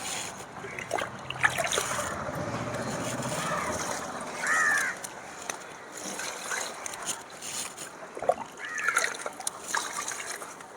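Water splashes and trickles as it is poured into pots of flowering brinjal plants in a home garden, in soft, uneven bursts with quiet gaps.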